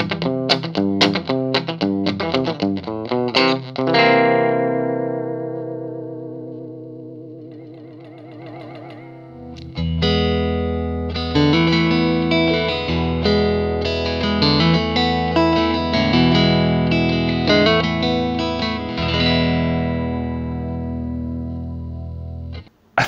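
A Fender Jazz Tele electric guitar rings out in quick picked notes, lets a chord decay, then resumes with effected, slightly distorted strumming and melodic lines, full and up close.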